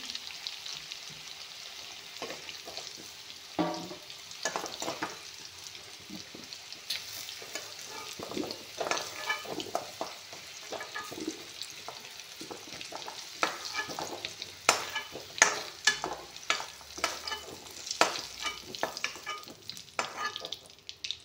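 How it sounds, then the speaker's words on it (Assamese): Papaya pieces fry in oil in a pan while being stirred, a continuous close sizzle broken by frequent scraping and clattering knocks of a utensil, with no talking. "অমিতাখিনি ভাজি ল'লোঁ। ভালকৈ ভাজি ল'লোঁ।"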